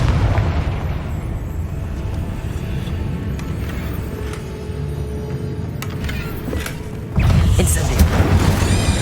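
Confringo fire spell explosions bursting in the game Hogwarts Legacy, a dense rumbling blast with crackling debris, followed by a fresh loud boom near the end.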